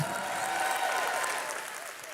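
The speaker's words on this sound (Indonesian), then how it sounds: "Saudara yang pelayan Tuhan di ISS, boleh tepuk tangannya yang paling meriah." Congregation applause for church servants during a sermon service: a dense wash of clapping from a large crowd, fairly far and even, fading slightly at the end.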